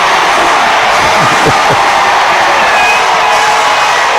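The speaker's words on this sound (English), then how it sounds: "Crowd going crazy." A WNBA Finals crowd roars steadily in the basketball arena, a loud, dense wall of cheering and whoops that keeps up throughout.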